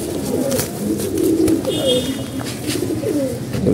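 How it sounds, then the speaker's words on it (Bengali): Pigeons coo in soft, repeated throaty phrases close by, with a male pigeon among the birds being paired for breeding; steady low background noise runs underneath and no one speaks. "এই কবুতরটা একটা নর কবুতর।"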